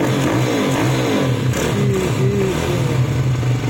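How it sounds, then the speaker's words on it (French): A YCF dirt bike engine fitted with a Keihin PE28 carburetor revs in repeated short throttle blips over a rough idle, loud and close with no talking. "Là, je vais accélérer"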